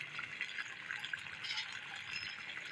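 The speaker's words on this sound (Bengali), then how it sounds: "বাটি দিয়ে জলটা দিয়ে দেবো।" Water poured from a bowl into a cooking pot with spices, a soft continuous trickling splash heard faintly and alone for a few seconds.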